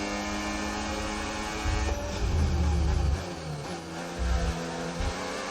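A Formula 1 car in the F1 25 video game runs at high revs with DRS open while overtaking, a loud steady engine whine with rising tones and brief deeper surges.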